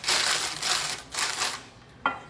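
A scored sourdough sandwich loaf is set into a parchment-lined bread pan, producing close, loud rustling crinkles of paper in three quick waves and then a short soft knock.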